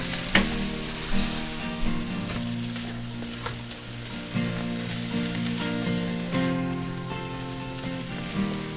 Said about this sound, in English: the ingredients we've added in here have heated up sufficiently and sauteed through a little bit